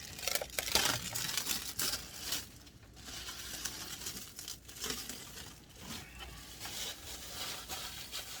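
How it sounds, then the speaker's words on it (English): Crinkling and tearing of plastic packaging as an Arrma Mojave EXB RC car kit is unwrapped, a close, soft, irregular rustle with bursts of crackling and no talking. "Well, let's unwrap it and get to work."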